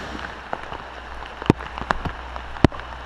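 Rain falls steadily during an evening of fly fishing in Lozère, a soft continuous patter with a few sharper drop taps standing out, close by and fairly quiet, with no voices.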